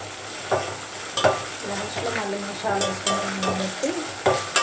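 Half a spoon of ginger garlic paste frying in a pan, a continuous sizzle broken by repeated sharp stirring scrapes and clinks of the spoon against the pan, with no talking.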